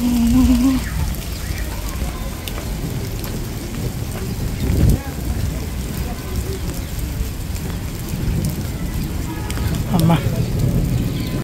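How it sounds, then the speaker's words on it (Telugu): Heavy rain pours steadily and continuously at the Qutub Minar site, a dense patter throughout with occasional louder gusts and faint voices in the background. "ఫుల్ రైన్ అయితే పడుతుంది ఇక్కడ,"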